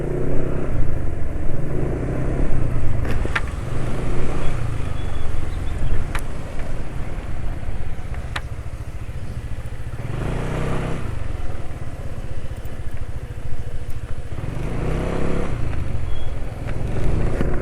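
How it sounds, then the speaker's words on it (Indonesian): A steady motor rumble with broadband noise that swells and eases in waves, the engine RPM dropping quickly after each throttle release; no talking. "gas dilepas RPM cepat turun ya"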